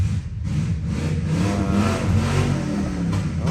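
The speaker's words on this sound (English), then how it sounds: "Okay, we know you got an engine." A car engine revs close by, a loud continuous throaty roar with pulsing surges over a few seconds and no talk.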